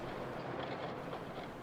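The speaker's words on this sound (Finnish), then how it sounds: "Seurue saapuu Parolan rautatieasemalla puhisevan junan viereen." Steam train standing at Parola railway station in wartime Finland, a steady broadband rumble and hiss of the locomotive running continuously and fairly loud throughout, with no other clear events.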